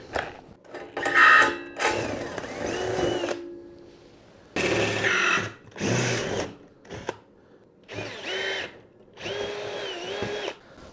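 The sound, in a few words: drilling holes for 6 mm bolts with 6.5 mm bit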